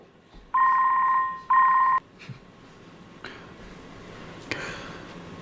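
Two short bursts of telephone keypad tones sound close up, followed by quiet room noise with a couple of faint clicks.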